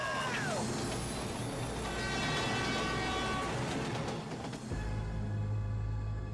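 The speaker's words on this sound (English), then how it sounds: "Or for the train to catch the mutants, Mr. Touch." A cartoon train rushes past in a Teenage Mutant Ninja Turtles animated episode, a loud dense rumble and clatter with horn-like tones, ending in a lower steady hum.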